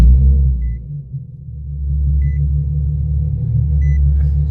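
A car running after an oxygen sensor replacement rumbles at a steady low idle, loud and close, with a few faint electronic beeps over it and no talking.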